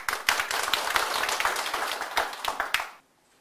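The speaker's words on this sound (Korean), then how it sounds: "여러분 박수로 환영해 주시기 바랍니다." Applause welcoming a speaker at a Korean forum on redevelopment profit recovery, a burst of distinct claps from a modest audience that stops abruptly before a short silence.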